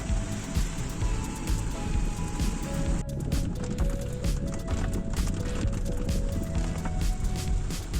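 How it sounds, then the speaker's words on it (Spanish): Heavy rain falls steadily during a drive in Lithuania, a dense continuous patter and drumming of drops that stays loud throughout, with no talk. "la lluvia comenzó a caer otra vez fuertemente"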